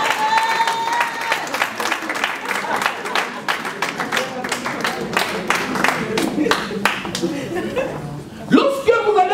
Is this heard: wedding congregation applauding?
yes